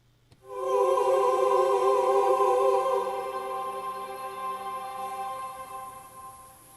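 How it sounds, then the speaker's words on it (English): A sustained synthesized chord from the Gothic Stage Choir virtual instrument, choir voices blended with a soft pad, swells in, holds steadily, then slowly fades. "take a sound like this, where you have a pad and a choir"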